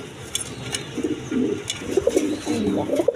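Pigeons coo steadily at close range, a series of soft rolling low calls in short repeated bursts with no talking over them.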